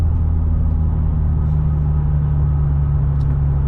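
A car engine rumbles steadily from inside the vehicle while cruising on a hot day, a constant low drone with no pauses or distinct changes in pitch.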